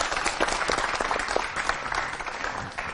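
A school audience applauding a student's battery and light project, a dense, steady wash of many hands clapping that fades slightly at the end.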